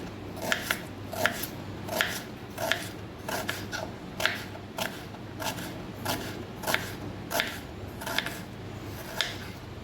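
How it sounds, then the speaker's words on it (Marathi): Knife slicing a whole onion into thin slices on a board for village-style chicken biryani, a steady run of crisp, evenly spaced cutting strokes, close and clear, with no talking. "बघा असा उभा कांदा चिरायचा आहे आपल्याला पातळ स्लाइस करायचे आहेत या पद्धतीने"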